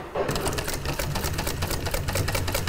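A sewing machine stitches steadily at a fast, even rhythm, its rapid mechanical clatter continuing without pause.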